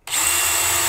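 A power drill kicks in abruptly and whines steadily at high speed, drilling into a wall, loud and close, with no voices.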